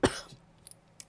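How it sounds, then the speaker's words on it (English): A single sharp cough bursts out up close, followed by a faint throat-clearing rasp and a couple of small mouth clicks in an otherwise quiet room. "And I'm going to have a random coughing fit."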